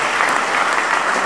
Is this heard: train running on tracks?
no